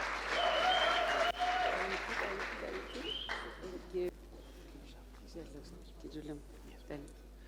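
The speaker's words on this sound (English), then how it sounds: "Please can we give a massive round of applause?" An audience at a live chat event claps to welcome a guest onto stage, a loud burst in the first seconds that fades quickly, followed by talking over a low hum.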